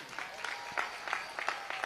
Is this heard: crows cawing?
no